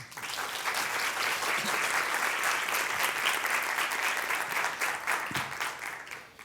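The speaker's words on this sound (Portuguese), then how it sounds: "vamos dar uma salva de palmas" Sustained applause from a lecture audience at a science and technology week event welcoming a speaker, steady and dense clapping that fades out near the end, with no talking over it.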